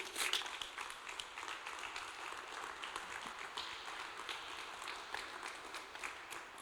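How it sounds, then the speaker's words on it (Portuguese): Congregation applauding during a Sunday church service, a steady dense wash of hand clapping that holds at an even level throughout, with no talk over it. "Uma salva de palmas para Jesus."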